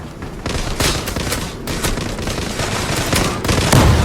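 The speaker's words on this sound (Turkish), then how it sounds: "Adam AWP ile vurdu beni. Oyun sesi çok yüksek." Loud, close bursts of rapid gunfire fill the whole stretch of an online shooter match in Zula, with several shots and volleys overlapping and no talking.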